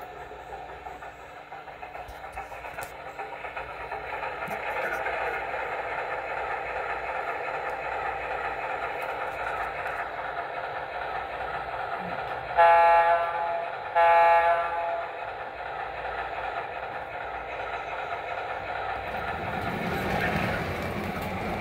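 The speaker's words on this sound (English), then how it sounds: "So I'm just kind of relaxing and playing with my trains." A model train runs steadily with a continuous whirring rumble, and two short horn blasts sound midway before the noise shifts near the end.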